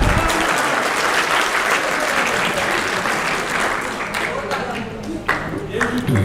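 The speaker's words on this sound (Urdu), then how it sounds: "ان کی کمپیرنگ کے لیے تالیاں ذرا ہو جائیں." Audience applause at a stage event with a compère, a dense wash of clapping that slowly thins out, with scattered individual claps and a voice near the end.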